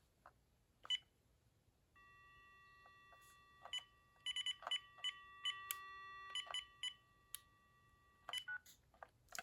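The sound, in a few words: Uniden DXI386-2 cordless phone dialing tones on test line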